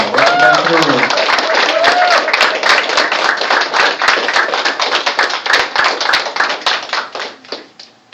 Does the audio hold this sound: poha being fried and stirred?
no